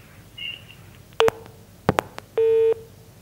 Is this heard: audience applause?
no